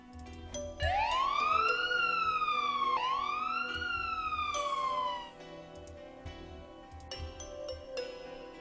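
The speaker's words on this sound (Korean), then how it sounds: "집에 가까워지자 사이렌 소리가 들려왔다." A siren wails up and down in two long rising-falling sweeps, fairly close and loud, then fades out leaving faint background noise and light clinks.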